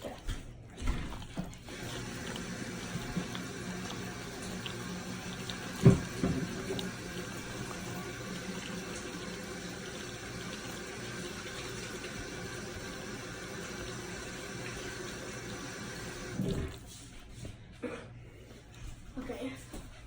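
Water running steadily from a kitchen sink tap for hand washing, a continuous near rush that stops toward the end, with voices talking over it.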